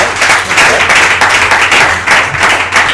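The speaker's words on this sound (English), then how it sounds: "Please give him a round of applause." Dense, steady applause from a meetup audience greeting a speaker, many hands clapping loudly and continuously throughout with no voices over it.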